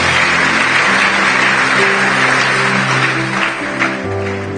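A congregation claps loudly to acclaim the Lord during a church service, a continuous roar of many hands over sustained musical tones, lasting a few seconds without speech.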